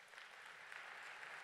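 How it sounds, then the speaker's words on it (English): Audience applause at a city council economic development breakfast, faint and steady, with dense clapping spread evenly across the whole short stretch. "we can give you a round of applause"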